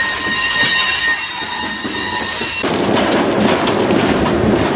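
A freight train of gravel cars rolls past close by, a loud continuous rumble and rattle of wagons with a steady high whine in the first half, shifting to broader clattering wheel noise.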